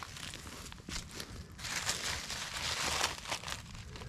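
Soft crinkling of a plastic trash bag handled with a gloved hand during trash pickup outdoors, irregular rustles and crackles at moderate-low level, with some footstep-like shuffling and no speech.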